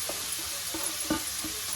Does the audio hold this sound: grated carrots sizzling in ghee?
yes